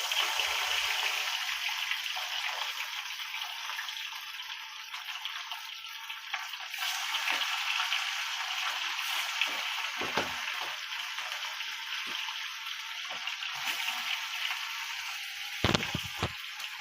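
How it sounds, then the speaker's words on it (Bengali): Snakehead murrel fish sizzling in hot oil in a pan: a steady, soft hiss of frying with occasional small pops and crackles, close but fairly quiet, with no one talking. "তেলটা গরম হয়ে গেছে। আমি এখন মাছটাকে তেলের মধ্যে ছেড়ে দেবো।"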